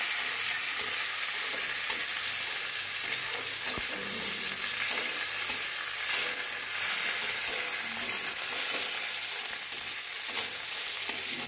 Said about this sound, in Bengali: সাথে পাঁচফোড়নটাও দিয়ে দেবো, তেজপাতাটাও দিয়ে দেবো।